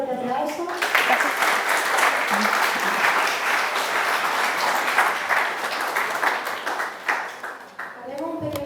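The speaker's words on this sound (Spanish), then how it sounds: "Agradecemos con un fuerte aplauso." Sustained audience applause at a science faculty event, a dense steady wash of clapping lasting most of the clip, with voices briefly audible at the start and end.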